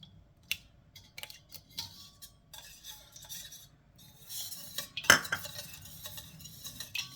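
Yogurt and butter being stirred into pizza dough in a bowl, with a spoon clinking and scraping against the bowl in sparse, irregular taps and one sharper knock, close and fairly quiet.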